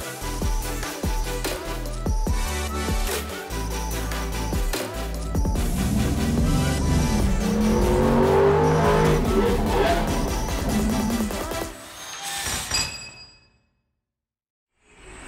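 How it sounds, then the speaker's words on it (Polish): A BMW M4 CS with large ceramic brakes, a loud engine roar building and sustained at high revs with possible tire squeal, then cutting to near silence at the end. "A gość, o którym wspomniałem, to BMW M4 CS."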